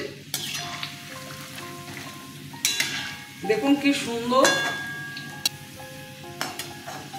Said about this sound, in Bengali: ভাজা হয়ে গেছে, নামিয়ে নিচ্ছি